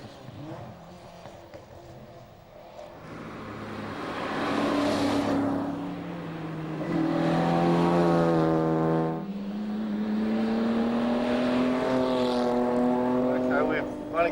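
Classic rally cars, among them an Alfa and a Ferrari, race a Targa Tasmania stage in 1998, engines rising and falling in pitch as they rev and pass loudly nearby, with a voice talking over them.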